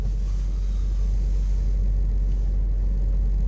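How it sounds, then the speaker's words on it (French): Car air conditioning blowing hard inside a moving car, a loud, steady roaring rumble with constant broadband hiss and no breaks or voices. "la voiture fait beaucoup de bruit parce que c'est la climatisation"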